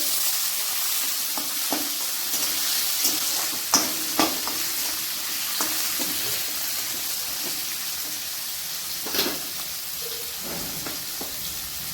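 Carrot and tomato hit hot oil for fried rice, making a soft continuous sizzle. Several light scrapes and clinks from stirring punctuate it, and no one speaks.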